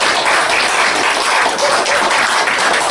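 Steady, loud applause from a congregation at a church thanksgiving service, a continuous dense wash of clapping that holds evenly throughout.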